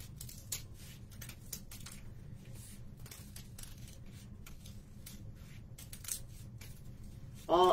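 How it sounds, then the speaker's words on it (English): Scissors snip through four stacked paper pages to cut a spiral for a paper rose, a steady series of soft, close cutting crunches. "So you just kind of cut your spiral, and you get a little wider as you go along."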